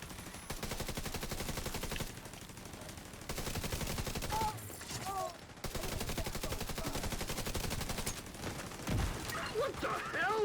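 Video game gunfire rattles in long sustained machine-gun bursts with brief breaks, loud and continuous, while voices talk over it intermittently.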